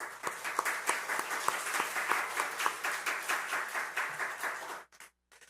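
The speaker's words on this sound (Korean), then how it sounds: "우리 격려 박수 드리겠습니다" A church congregation claps together during a Sunday worship service, dense, even applause that carries on for several seconds before breaking off into near silence, with faint voices underneath.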